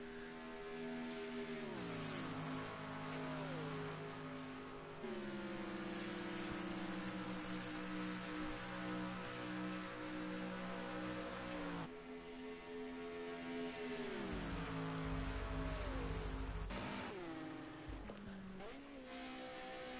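Race cars on the Döttinger Straight at the Nürburgring, engines droning steadily with rising and falling pitch as they pass and shift, continuous and fairly loud throughout, with a commentator's voice over them.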